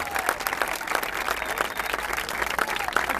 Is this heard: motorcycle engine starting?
no